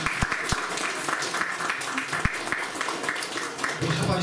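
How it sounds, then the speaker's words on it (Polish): An audience at a local history talk gives a steady burst of clapping for several seconds, mixed with a speaker's voice. "Także myślę, że należą się oklaski."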